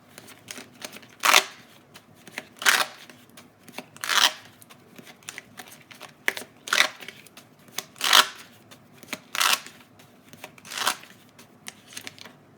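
Tarot cards are shuffled and pulled in repeated brisk riffling bursts about every one to one and a half seconds, close and fairly loud, with quieter handling between bursts and no talking.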